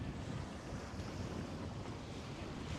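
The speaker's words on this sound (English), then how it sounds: "It's blowing about 20 knots in here at the moment, rolling terribly." Strong wind of about 20 knots roars steadily over waves and surf at a crowded anchorage in Pancake Creek during a northerly, a continuous dense rush with no voices.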